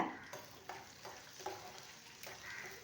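Raw peanuts and garlic cloves are sautéed in a pan, with a soft, faint sizzle broken by a spatula scraping the pan at roughly half-second intervals.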